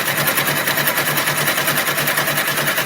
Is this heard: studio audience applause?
no